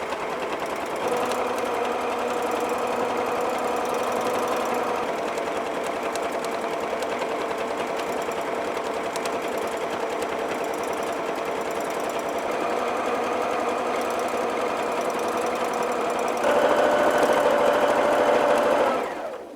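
Sewing machine stitching free-motion quilted roses, running loud and close in a steady continuous buzz for almost twenty seconds, speeding up slightly near the end before stopping.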